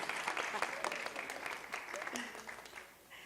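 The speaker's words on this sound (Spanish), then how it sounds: "Les damos un aplauso a los nuevos esposos." A church congregation applauds newlyweds with a dense burst of clapping, sustained and fairly soft, fading slightly as it goes on.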